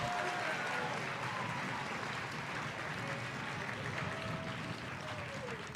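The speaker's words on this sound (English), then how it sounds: "Let's get one last round of applause for that group of seniors" A school audience claps for a group of seniors after an advisory presentation showcase, a steady dense patter of applause that holds at an even level throughout, with faint voices mixed in.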